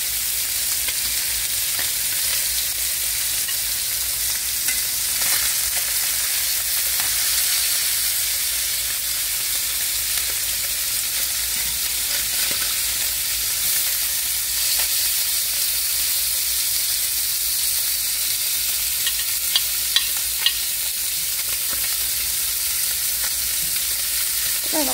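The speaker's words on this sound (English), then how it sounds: "And I'm going to let it cook a little bit longer. Not that it's not done. I just like it seared good." Squash casserole vegetables searing in a hot pan, giving a loud, continuous sizzle and hiss that stays steady throughout, with occasional faint clinks of stirring.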